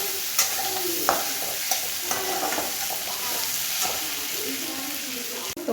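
Onions frying with salt in a pan for chicken curry, a continuous close sizzle with occasional stirring knocks and scrapes.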